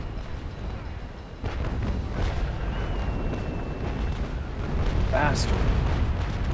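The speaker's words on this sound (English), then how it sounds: "Gun decks are just shooting right over him." Broadside cannon fire from warship gun decks in the Naval Action naval battle game, a rumbling boom and steady heavy thunder continuing beneath a player's brief spoken outburst.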